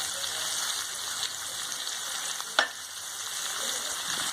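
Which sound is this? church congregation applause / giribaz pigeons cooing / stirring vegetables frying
stirring vegetables frying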